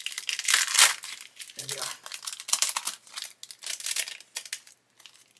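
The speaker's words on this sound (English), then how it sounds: "I'm going to grab a knife, just cut it." A knife slices open the plastic packaging holding Meng 1/72 model kit parts, producing close, bursty crinkling and tearing rustles in uneven clusters. Someone speaks briefly.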